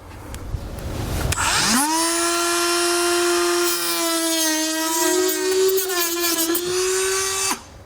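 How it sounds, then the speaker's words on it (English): A Dremel rotary tool cuts through thin plastic bumper fascia on a 2016 Volkswagen during a hidden trailer hitch install, a loud, close, high whine spinning up and holding steady for several seconds, then stopping abruptly. "Now to cut it, I'm going to use a Dremel tool."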